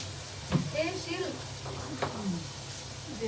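A bay leaf dropped into hot oil in a home kitchen, sizzling steadily at moderate level while someone talks over it.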